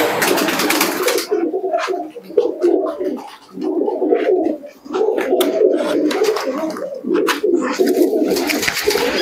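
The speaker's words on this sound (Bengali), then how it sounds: "একটা নাপ্তা কবুতর নর" A male Naptha pigeon coos close by in repeated soft throaty phrases with short pauses between them, loud and clear over faint background chirps and brief clicking.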